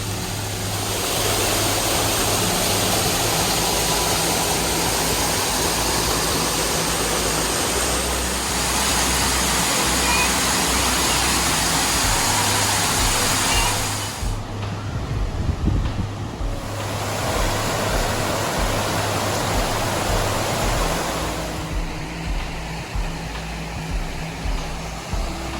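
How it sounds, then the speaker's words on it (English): A waterfall at Petit Jean State Park, Arkansas, roars in a constant, loud rush of falling water, with gusts of wind buffeting the microphone. "You gonna go look at this waterfall?"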